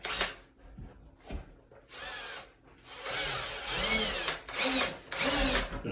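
Power drill driving screws into a washing machine valve box in sheetrock, several whirring bursts of varying length with brief pauses and handling clicks between, close and loud.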